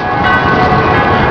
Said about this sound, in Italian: campane, suoni di campane